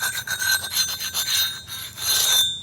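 Hammerstone strikes on thin, large Georgetown flint in direct percussion knapping: a rapid series of sharp, loud, ringing clicks with bright metallic overtones, close and harsh, repeated at an uneven rhythm with no talk.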